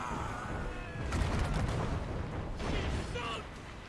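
Ship cannons firing in the Assassin's Creed Rogue video game, a couple of heavy booming blasts with rumbling tails over crackling battle noise, and game voices shouting in the background.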